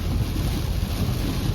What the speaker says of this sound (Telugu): అసలు వర్షం అయితే మీకు చూపిస్తున్నా కానీ ఏం కనిపించట్లేదు